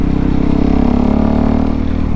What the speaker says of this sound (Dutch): Oh, ik hou van dat geluid van het optrekken, hè, man.